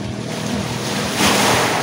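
Sea waves wash in at a beach, a continuous broad roar swelling louder toward the end, mixed with heavy wind buffeting the microphone.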